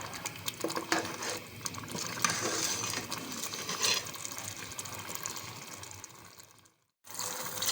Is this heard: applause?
no